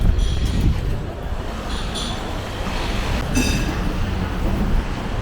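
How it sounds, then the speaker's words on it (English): A Vienna metro station fills with loud, steady rumbling of a moving train, with faint metallic clinks and brief wheel squeals rising over the continuous roar. "Train station now, or the metro station."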